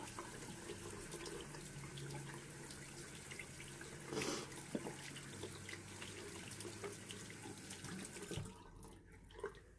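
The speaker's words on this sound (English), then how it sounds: "And then just run it under some water, and while I'm running it, I do the same thing." Tap water runs steadily over a shaving brush in a bathroom sink, making a continuous splashing hiss with small shifts as the bristles move under the stream, then going quieter near the end.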